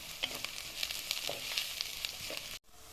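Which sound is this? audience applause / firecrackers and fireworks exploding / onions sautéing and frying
onions sautéing and frying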